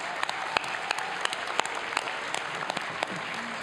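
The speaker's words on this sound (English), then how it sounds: "Let's give a big round of applause for all our amazing Circle honorees tonight." Scattered clapping from an audience honoring Upper Midwest Emmy Gold and Silver Circle inductees at an awards show, individual sharp claps rising above a softer patter of applause in a large room.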